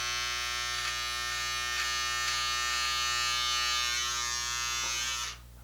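A small electric trimmer hums steadily and close while touching up a mustache, with a few brief pitch dips as it meets the hair, before switching off near the end.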